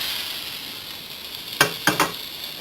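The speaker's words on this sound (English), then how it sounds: "you're just going to continue this on with another knob of butter or a bit more oil. Just heat it around the pan." Butter heats in a hot pan for Scotch pancakes, giving a soft steady sizzle followed by three quick, close scraping clinks of utensil against the pan.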